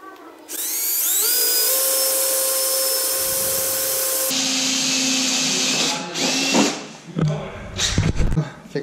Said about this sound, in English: We gotta drill a pilot hole first.